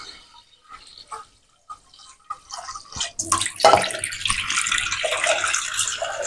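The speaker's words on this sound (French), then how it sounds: "Donc on va laver notre riz même 2 fois avant de passer" Rice is rinsed in a kitchen, starting with soft, scattered handling clicks and knocks, then a tap opens into a loud, steady gush of running water that continues to the end.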